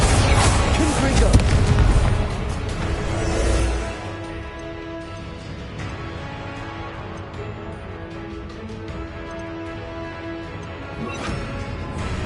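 Confringo fire-blast spell bursting in Hogwarts Legacy, heavy booming impacts and crashes at the start that settle into a lower rumbling tail, with a game soundtrack and a player's voice over it.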